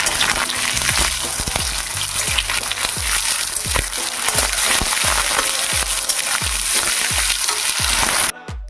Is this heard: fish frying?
yes